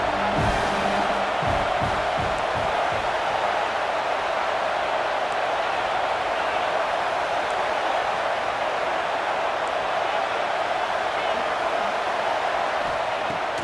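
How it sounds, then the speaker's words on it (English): A stadium crowd roars at a Texas Tech vs Arkansas college football game, a dense, loud, continuous wall of cheering that holds steady throughout. "These fans are going absolutely nuts."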